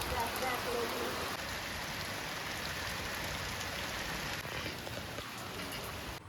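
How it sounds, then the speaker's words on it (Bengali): Steady rain pours down in a dense, even hiss of drops hitting surfaces, continuous and fairly close throughout. "কি বৃষ্টি পড়ছে"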